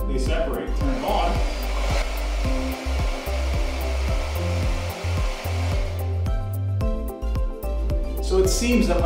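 A hair dryer roars continuously at close range, aimed down at paper towels, then shuts off partway through, leaving scattered knocks and a brief voice afterward.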